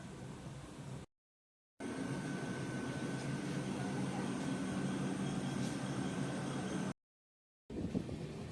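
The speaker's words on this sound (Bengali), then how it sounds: "খড়গপুর ঢুকছে ট্রেন।" A Gorakhpur–Shalimar Express train running as it enters Kharagpur gives a steady, even rumble and hiss from on board, broken by two short dead-silent gaps, with no talking.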